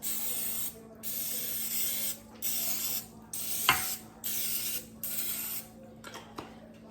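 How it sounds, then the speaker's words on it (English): Several short hissing bursts from a cooking oil spray can coating flounder, evenly spaced, close by, with faint clinks between them. "And we're gonna spray the other side."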